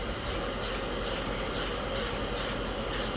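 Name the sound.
spray can primer being sprayed onto a scale model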